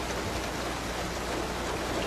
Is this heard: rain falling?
yes